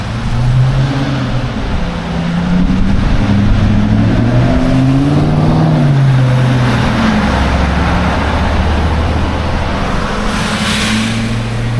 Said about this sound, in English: There is a lot of traffic passing through right now.